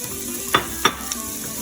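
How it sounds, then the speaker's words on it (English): Peppers and onions frying in bacon grease, a steady soft sizzle broken by two sharp scraping stirs and a lighter third, close up with no talking. "I stir them around a little bit and let them cook for a little while before I add the potatoes"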